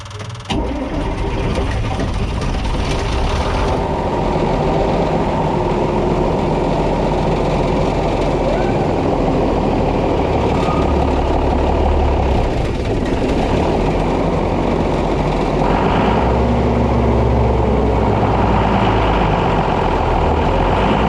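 A 4420 combine's engine cranks and settles into a loud, steady, heavy rumble out in the field, running continuously with a few clanks and shifts in tone and no voices.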